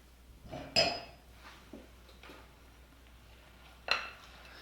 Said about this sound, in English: Add my milk mixture to my oat mixture and just give it a really quick stir.